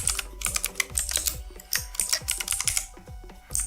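Typing on a computer keyboard while HTML code is being written: quick, irregular bursts of crisp key clicks, close and clear, with no voices.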